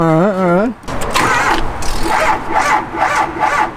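A 7.3 diesel engine being cranked in an attempt to start it: a short, loud, wavering starter whine that cuts off after under a second, followed by people talking.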